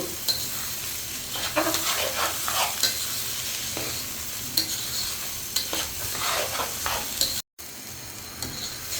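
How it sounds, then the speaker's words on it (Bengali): Rice frying in a pan for egg khichdi, a steady close sizzle with rhythmic scraping strokes of a spoon stirring the grains, a brief dropout near the end, no voices. "আমি চাউলগুলো ভালো করে ভেজে নিচ্ছি খিচুড়ি রান্না করার জন্য"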